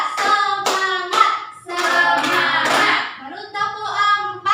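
A class in a microteaching practice lesson claps hands in short rhythmic bursts, the claps alternating with voices chanting responses together.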